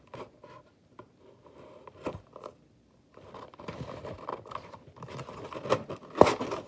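Scissors or a blade cutting a hole in a cardboard fidget box vending machine, a run of close, crisp snips and crunches that start sparse and grow busier and louder toward the end.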